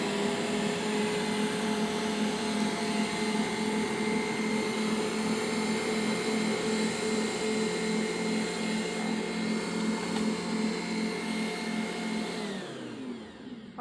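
Kitchen mixer kneading whole grain bread dough on low speed, a steady, loud motor drone with an even whir that runs unbroken for several seconds, then winds down at the end.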